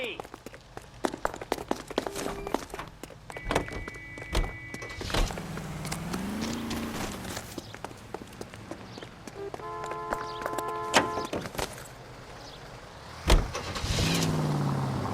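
In the video game L.A. Noire, a 1940s-era car is entered and driven off, with door clunks and clicks, an engine starting and revving, then a steady motor hum under game street noise, footsteps and speech.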